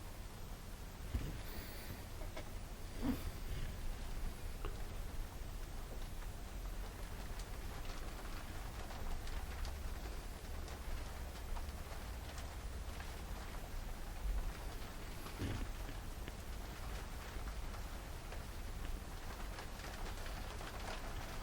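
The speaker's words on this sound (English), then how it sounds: "that's rain is definitely coming down out there today" Heavy rain pours steadily outdoors, a continuous broadband hiss holding at an even level throughout, with a few louder splashes or gusts around the middle and no voices.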